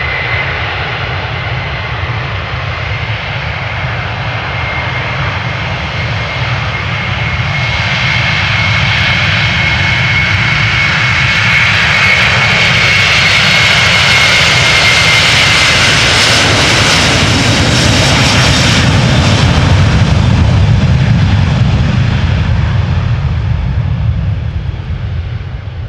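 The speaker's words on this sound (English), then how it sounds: "Going to Houston, Texas, KLM flight 661, Airbus A330-300." A KLM Airbus A330-300 jet takes off at Amsterdam Schiphol, a loud, sustained roar of engines swelling and holding, with a high whine riding above the deep rumble as it climbs away.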